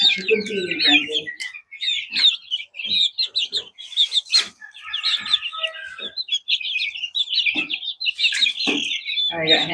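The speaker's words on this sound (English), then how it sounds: "Chicken feeding frenzy." Some thirty chicks and chickens chirp, cluck and tweet busily at close range during a treat-feeding frenzy, high peeping calls overlapping continuously with a few lower clucks, while a person talks over them.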